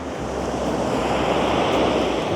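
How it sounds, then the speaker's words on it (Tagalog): Ocean surf washing onto the shore at Dilasag, a steady, loud broadband roar of breaking waves with wind buffeting the microphone, continuous throughout with no speech. "Maabot ata dito yung alon ng tubig."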